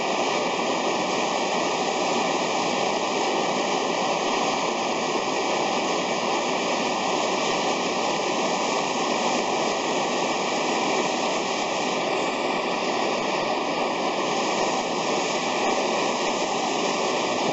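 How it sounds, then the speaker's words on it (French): An oxyacetylene torch heating a piece of 35NCD16 steel gives a steady, loud, unbroken hissing roar that holds level the whole time, with no talk over it. "je prends le chalumeau oxyacétylène"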